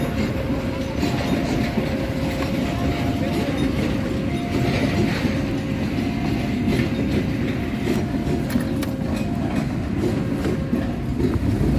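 A KLB rail locomotive on an Indonesian line runs past at speed, a loud, continuous rumble with rhythmic wheel clatter and hiss lasting throughout, heard close from the trackside.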